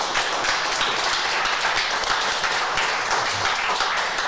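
A workshop audience claps steadily for several seconds, a dense, continuous wash of many hands, close and fairly loud, with no talking.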